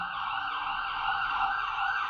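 Emergency vehicle siren from a police car or ambulance wails steadily and loudly throughout, a continuous high tone with no talking over it.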